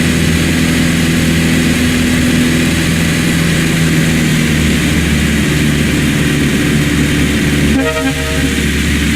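A propeller aircraft's engine drones loudly and steadily during a runway landing approach in the FSX flight simulator game, with a tonal whine near the end.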